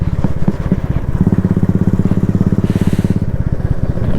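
A Harley-Davidson Road King motorcycle rides along a road, its engine producing a loud, steady rapid thumping pulse that holds throughout with slight rises in revs.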